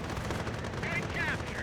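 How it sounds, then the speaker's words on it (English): Gunfire from a strafing run in the World War II strategy game Company of Heroes, a dense continuous rattle of rapid shots with whistling tones near the end, heard alone without talk. "Another great strafing run there."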